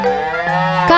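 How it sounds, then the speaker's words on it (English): Cow lets out a single loud, close moo that stays steady and sustained for the full second. "Cow."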